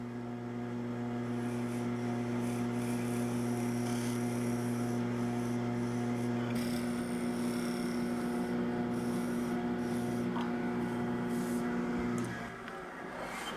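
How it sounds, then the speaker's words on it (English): Lathe tool sweeping across the end grain of a turning wooden box, a steady close rasping cut over the constant hum of the lathe motor, changing tone partway through. "Then sweep the slightly curved edge across the end grain to make it flat."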